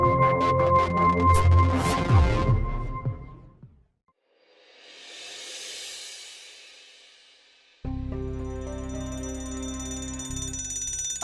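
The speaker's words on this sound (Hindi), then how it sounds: "अपना अलार्म बंद करो" An alarm sounds in a home setting in a Hindi crime drama, starting as a loud tonal ringing with layered harmonics, cutting out into a brief hissy swell, then returning as a steady sustained electronic ringing tone, no voices over it.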